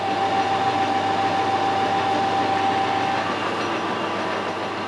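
Steady, dense mechanical whir of a lathe turning a shaft with a traveling steady rest, cutting continuously at an even level, with a faint thin tone running through the first part and no speech.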